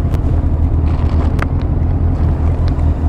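Strong wind buffeting the microphone while riding a bike, a loud continuous low rumble and roar with no breaks throughout.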